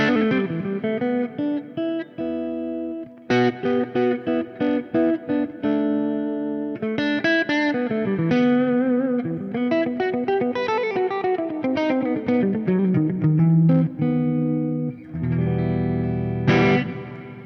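Clean electric guitar plays a flowing melodic line of plucked notes and chords, bathed in light reverb, ending on a sustained strum.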